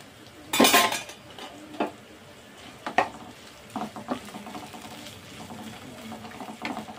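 Vegetables for vermicelli upma are stirred in a pan with a metal utensil, giving a sharp clatter at first and then intermittent scrapes and clinks against the pan.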